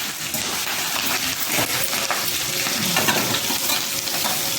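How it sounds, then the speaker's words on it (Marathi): Cumin seeds and chillies fry in hot oil, a steady loud sizzle running throughout with light stirring scrapes and small clinks on top. "त्याच्यानंतर लगेच आपल्याला जिरे मिरची टाकून द्यायची"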